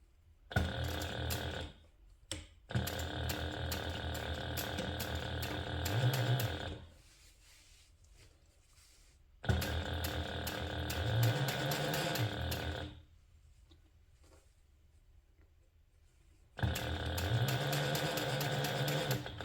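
Sewing machine topstitching a handbag with a 1/8 inch seam allowance, running in three long bursts of rapid, steady mechanical stitching. The bursts are separated by quiet pauses, sound close and moderately loud, and carry no talking.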